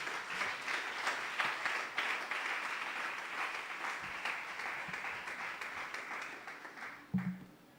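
A church congregation applauds steadily with dense, continuous clapping that holds for several seconds, then thins out, with a faint voice near the end.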